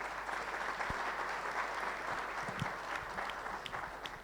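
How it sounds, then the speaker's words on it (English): Sustained audience applause for panelists after a capital market panel discussion, a steady wash of many hands clapping at moderate distance, with a few louder individual claps and slowly fading toward the end. "give a round of applause to all our panelists"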